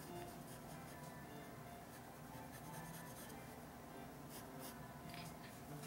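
Pencil scratching steadily on paper while sketching a manga drawing, a continuous close, dry rasp with short strokes and no talking.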